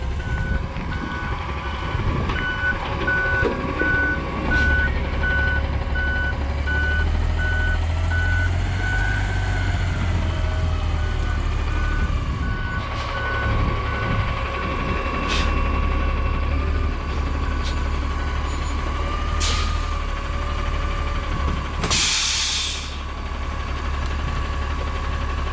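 A trash truck drives slowly onto a trailer, its engine rumbling low and steady while a reversing alarm beeps in a regular rhythm. A few sharp clanks and a short hiss break through, with no talk.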